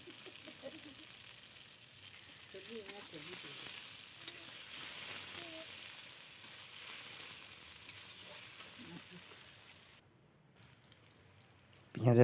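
Onions fry and get stirred in a pan, a soft steady sizzle with occasional scraping, quiet throughout; a voice murmurs faintly in places and a louder clatter comes at the very end.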